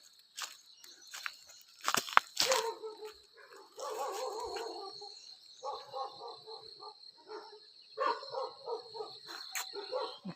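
Hill dogs bark in loud, irregular bursts from a wooded jungle slope, near to middling in distance, with steady insect chirring underneath throughout.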